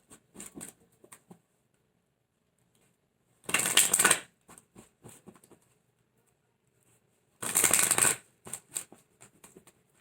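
Oracle cards being shuffled in two loud bursts of riffling, each lasting under a second, with soft taps and handling of the deck between them and no talking.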